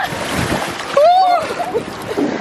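A baby named Yuki tumbles into sea water on a beach in the Algarve, giving a sudden splash over rolling surf, followed by a brief high cry or squeal and a voice nearby.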